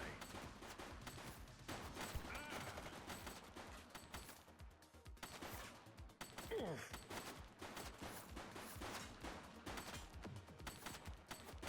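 Sustained gunfire in The Precinct police game, dense bursts of overlapping shots and rapid automatic fire running throughout, loud and close with brief lulls.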